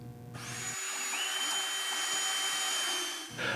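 Cordless Canadian Tire Maximum drills drive 10-inch screws into end grain, giving a steady, loud high-pitched motor whine that holds for about three seconds before cutting off, then restarts briefly.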